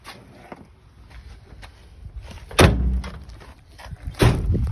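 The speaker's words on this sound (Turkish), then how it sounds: "Aracımızın kapıları falan çalışıyor arkadaşlar." The doors of an old Willys truck are worked, with soft creaks and rattles building to two solid metal slams, one in the middle and one near the end, close and loud.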